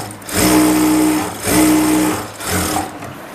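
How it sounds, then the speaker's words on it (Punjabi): An electric sewing machine stitches a single-seam palazzo in two steady, loud whirring runs of about a second each, then begins a brief third burst, with short pauses between runs and no talking. "ਛੱਡ ਕੇ ਸਿਲਾਈ ਇਦਾਂ ਸੂਈ ਵਿੱਚ ਰੱਖ ਕੇ ਡਬਲ ਕਰ ਦੇਣੀ ਹੈ"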